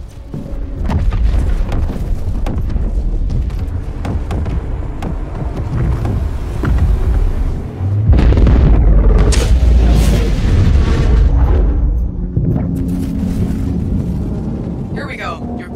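Loud, continuous rumbling booms and blasts as an Idris capital ship is destroyed in the space combat game Star Citizen, dense and sustained throughout with a heavier surge midway.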